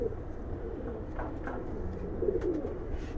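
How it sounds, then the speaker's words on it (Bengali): Giribaz pigeons coo in a crowded loft full of caged birds, a low, continuous throaty rumble from several birds at once, moderately close and with no speech over it. "মোটামুটি এইখানে খাঁচা ভর্তি কবুতর আছে"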